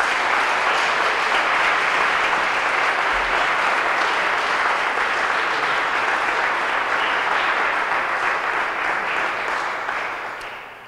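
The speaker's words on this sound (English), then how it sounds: "So give them a round of applause too." Sustained applause from a crowd at the O'Shaughnessy Great Hall rededication ceremony, steady and full for about ten seconds before beginning to taper off at the end.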